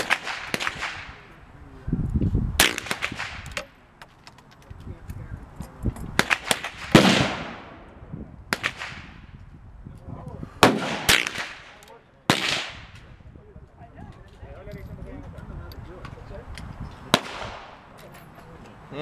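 Winchester M1885 Low Wall rifle firing CCI rounds outdoors, about seven sharp, loud single cracks spaced a few seconds apart, each ringing off briefly, with people talking quietly between shots.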